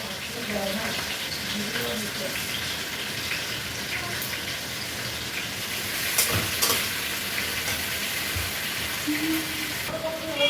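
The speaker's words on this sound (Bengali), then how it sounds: "চলো আমি তাহলে এইটাকে ভালো করে ভেজে নিই আলুগুলো" Potatoes frying in hot oil with panch phoron and dry red chillies, a steady loud sizzle with stirring scrapes throughout, while occasional voices are faintly heard in the background.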